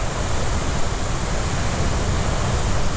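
Steady, loud roar of the Napne waterfall in Sindhudurg, Konkan, falling into a gorge roughly a hundred feet deep, a dense continuous rush with no pauses and no voices.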